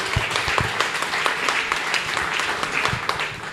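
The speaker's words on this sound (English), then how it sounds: "So, Simi, can you give her a round of applause, please?" Applause from an audience at a live-streamed event, a steady patter of many hands clapping at moderate volume throughout, with faint voices underneath.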